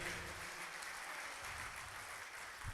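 Applause from an audience at an international mushaira, Urdu poetry gathering in Jubail, a steady broadband wash of many hands clapping that holds evenly at moderate, somewhat distant level for the whole stretch.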